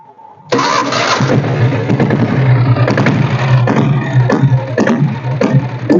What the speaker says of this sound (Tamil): நான் இப்போ வண்டியை ஃபஸ்ட்டு செல்ஃப் போட்டு காட்டுறேன் பாருங்கள்.